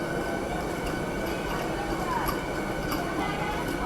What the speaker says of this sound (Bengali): এসি লোকালটা দেখতে পাচ্ছ শিয়ালদার উদ্দেশ্যে বেরিয়ে গেল